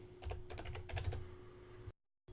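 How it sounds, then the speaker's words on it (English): Rapid typing on a computer keyboard during WordPress web page editing, a quick run of close, crisp keystrokes for about two seconds before it cuts to silence, with a steady electrical hum underneath. "So I'll type image."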